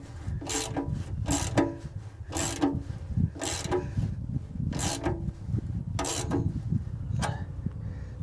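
A piggyback drain plug is threaded into a stripped oil pan, cutting new threads, giving a series of rhythmic rasping, ratcheting scrapes repeated about every second, close and steady.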